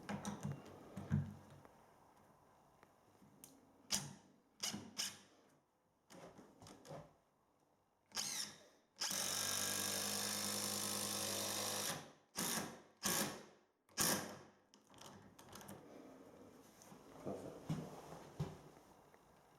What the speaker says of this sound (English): I'm going to countersink the head of that just below the surface